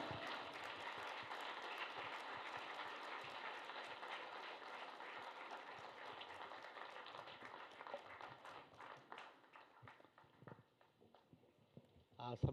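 A standing audience at a public gathering claps to welcome a guest onstage, a dense, distant-sounding wash of applause that thins into scattered claps and fades toward the end.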